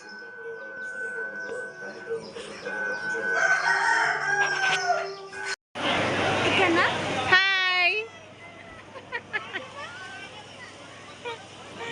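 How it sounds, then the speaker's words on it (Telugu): A pet rooster crows clearly and loudly, its long cock-a-doodle-doo rising over background chatter and children's voices, with hens clucking nearby and people talking throughout. "అది మా కోడి పుంజండి"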